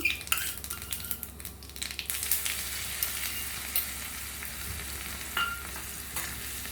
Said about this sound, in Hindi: लहसुन को पहले भून लेंगे अच्छे से।